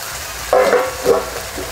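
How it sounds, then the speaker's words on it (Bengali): Chopped tomatoes drop into a pan of frying onion, ginger and garlic for a Vola fish curry, setting off a sudden loud burst of sizzling that then settles into a softer steady fry, with no voices. "টমেটো কুচি দিয়ে দিচ্ছি।"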